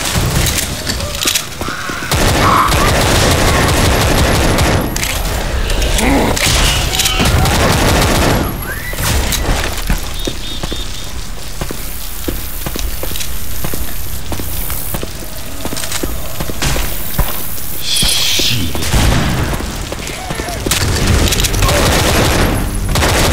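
Sustained gunfire fills a Left 4 Dead 2 multiplayer match, with dense rapid shots, occasional booms and crashes, and shouting voices mixed into the loud, continuous fire.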